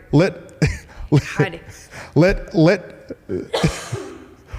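Several harsh coughs and throat clearings in quick succession, close and fairly loud, with a few vocal sounds mixed in.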